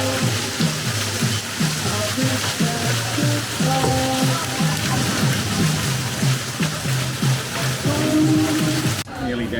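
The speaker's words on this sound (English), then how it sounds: "This is a hail in Barcelona in summer." Summer hail in Barcelona pours down in a steady, dense patter and hiss throughout, close and fairly loud, with voices or tonal sounds carrying over the downpour.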